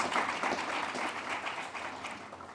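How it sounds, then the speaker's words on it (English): A crowd at an opening ceremony applauds steadily, dense clapping that fades slightly toward the end. "please give them a round of applause."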